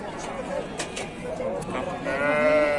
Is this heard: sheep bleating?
yes